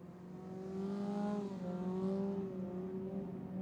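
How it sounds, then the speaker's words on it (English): An off-road race car at the Crandon championship course accelerates on the throttle somewhat in the distance, a rising engine drone with clear harmonic whine that swells, dips briefly and climbs again. "You can hear Sands in the background getting on the throttle a little bit, just trying to catch back up"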